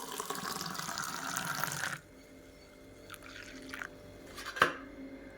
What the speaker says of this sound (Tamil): இப்போ நம்ம எடுத்து வச்சுருக்க கருவேப்பிலை ஜூஸ் ஊற்றிடலாம்.